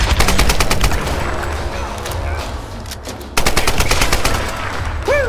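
Rapid bursts of gunfire from the video game Tomb Raider Definitive Edition crackle loudly and close, with repeated shots and a fresh volley near the end.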